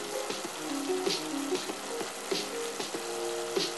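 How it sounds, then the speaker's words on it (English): Vegetables, some added straight from frozen along with sweet potatoes, sauté in a pot with a steady sizzling crackle and faint repeated clinks from stirring, close by and continuous, no voices. "And so I'm gonna add these all to the pot and saute them."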